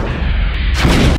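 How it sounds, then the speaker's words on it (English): Tank missile fire from a Lego stop-motion film: a loud, booming blast that swells partway through the brief moment, with no speech over it. "Tank missile!"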